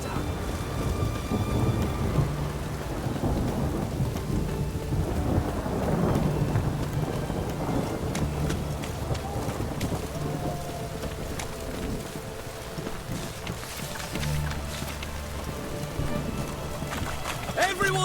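Steady rain with rumbling thunder in The Witcher video game fills the scene, a continuous wash of noise with low booms, while voices talk over it.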